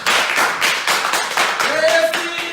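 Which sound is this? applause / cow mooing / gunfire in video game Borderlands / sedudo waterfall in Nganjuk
applause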